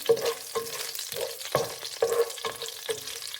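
Whole spices fry in ghee in a pan for ghee rice while a spoon stirs them, making a rhythmic series of close scrapes over a soft, steady sizzle.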